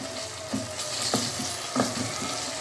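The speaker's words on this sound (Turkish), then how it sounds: "Bu şekilde karıştıracağım." Tomato paste frying with softened peppers and onions in a pot, a steady close sizzle broken by a few soft scraping strokes of a spoon stirring it, with no voices.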